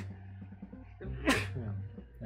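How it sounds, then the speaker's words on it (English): A single sharp sneeze bursts out mid-way, loud and close, during a casual Spelunky 2 gaming stream with someone talking before and after. "I'm gonna sneeze, by the way."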